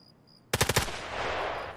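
After a quiet moment, a quick burst of about four loud automatic gunshots rings out in a first-person shooter game, then trails into a broad, hissing echo.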